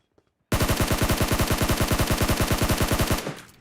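Rapid automatic gunfire from a weapon in the mobile battle-royale game PUBG Mobile, a loud, steady burst of about thirty evenly spaced shots lasting nearly three seconds, close and alone, then cutting off.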